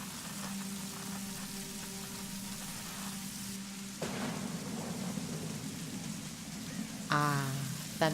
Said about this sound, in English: Ah, thunderstorm.